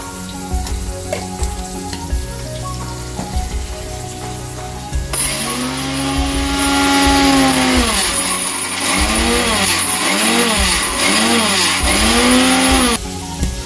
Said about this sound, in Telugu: మెంతులు మిక్సీ పెట్టేద్దాం